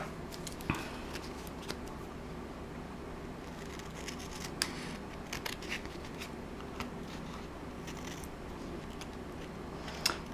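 Scissors trim a paper card in quiet, sparse snips and light crisp paper rustles, close by over a faint steady background hum, with no talking.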